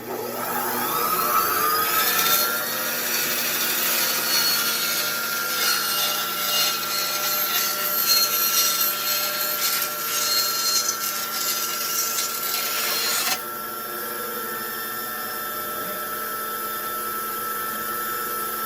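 A saw cuts through plastic Lego pieces being shaped into a violin, giving a steady, close, rasping whine that runs for about eleven seconds and then stops, leaving a quieter background hum.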